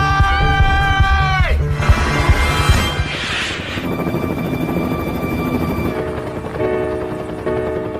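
A helicopter drones steadily throughout, its rotor and engine whine loud and continuous, with a brief shift in tone partway through.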